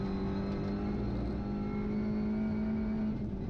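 An Audi RS3 LMS TCR race car builds throttle on track at Circuit Zandvoort, with a steady, loud engine drone heard onboard that holds a strong, even pitch and climbs slightly before easing near the end.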